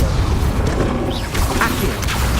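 A burst of the Incendio fire spell in Hogwarts Legacy: a dense, roaring magical whoosh with booming low rumble, steady and loud throughout with no voices.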